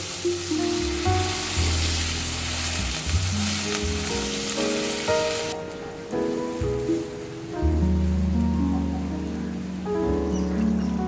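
Cauliflower curry frying in a pan with spiced masala, with water added partway through; a loud, steady sizzle fills the first half, then drops to a softer bubbling hiss, with tonal background music throughout.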